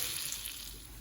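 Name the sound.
shrimp shallow frying in a pan, sizzling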